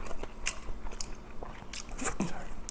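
Grilled fish, including mackerel, atka mackerel and flounder, is eaten with rice, kimchi and green onion kimchi: close, steady chewing with soft wet bites and occasional crunches.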